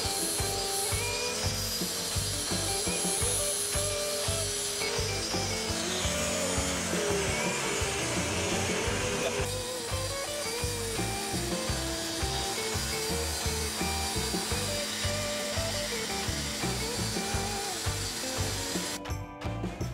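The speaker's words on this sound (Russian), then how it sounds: "воспользовавшись длинным ремнем, я привожу в действие мой ролик и шлифую его с двух сторон по очереди" A homemade belt grinder runs continuously while a roller is sanded on both sides in turn, producing a loud, steady grinding and rubbing hum with a motor whine that persists for the whole stretch.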